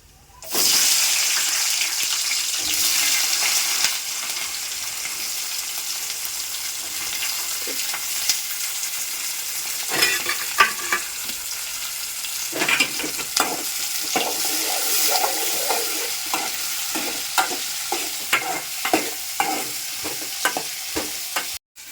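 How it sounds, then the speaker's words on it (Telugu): Chillies and onions hit hot oil in a pan, bursting into a loud, continuous close-up sizzle that stays steady, with a denser crackle of popping later on. "తర్వాత మిరపకాయలు ఉల్లిగడ్డలు వేస్తాను"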